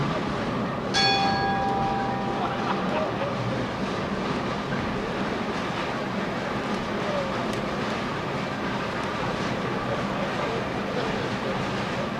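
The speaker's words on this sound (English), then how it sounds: "Bowlers at the sound of the bell may begin." A single bell strike rings out at a bowling center, its bright tone sustaining briefly over a constant wash of crowded room noise before fading into the steady din.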